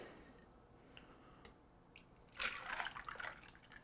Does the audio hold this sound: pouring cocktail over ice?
yes